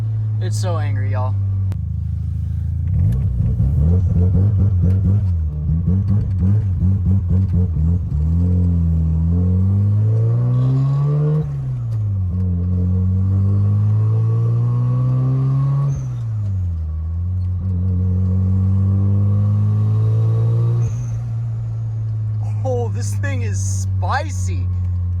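Mazda RX-7 FC turbo II rotary engine with a 3-inch catless downpipe, revving hard and loud up close, with repeated rising and falling pulls over a steady low drone, a few short bursts of talk at the end.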